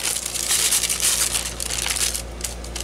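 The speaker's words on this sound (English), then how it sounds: "you can hear that it's kind of like a crunchy paper or something" Dry, crunchy sheets of dried painted deli paper crinkling and crackling in short bursts, close and fairly loud, continuing steadily with no voices.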